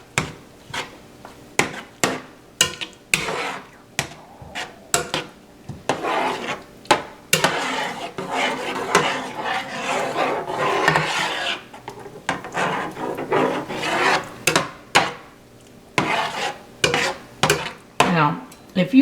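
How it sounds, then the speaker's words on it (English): A spoon scrapes and stirs a creamy garlic shrimp sauce with shredded Parmesan in a pan, producing repeated rasping strokes in a steady rhythm, close and fairly loud, with a voice speaking at times. "Now, we want to stir this up."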